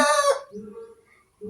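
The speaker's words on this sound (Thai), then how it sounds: "ไก่ก็ขันไม่หยุดเลยนะคะ" Loud nearby crow from a rooster that cuts off at once, then fainter clucking and a second call starting at the end.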